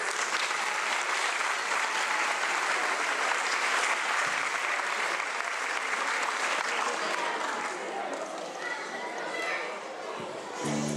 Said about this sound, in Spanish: Un aplauso para eles.